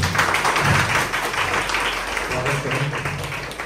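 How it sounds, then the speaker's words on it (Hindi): At a welcome event in an eye hospital, an audience applauds with steady, fairly loud clapping throughout while a speaker talks over it. "सभी लोग तालियों के साथ"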